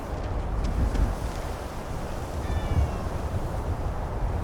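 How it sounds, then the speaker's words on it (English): A cat meows a few times inside the game Skyrim, over steady wind-like ambient noise with no talking. "A cat!"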